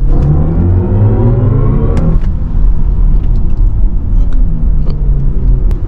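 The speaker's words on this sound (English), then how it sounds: "As soon as you get into the gas, it almost wants to spin the front tires when you hit it." A 2023 BMW iX M60i, an electric SUV, accelerating hard, with a loud, steady close rumble and a rising whine that drops away near the middle, no voices.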